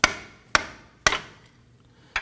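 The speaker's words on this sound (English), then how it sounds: "we're going to use our hammer and just knock that off" Hammer striking a notched screwdriver to knock off a one-time-use band during inner tie rod replacement on a Nissan Murano, four sharp metallic taps spaced about half a second apart, close and fairly faint.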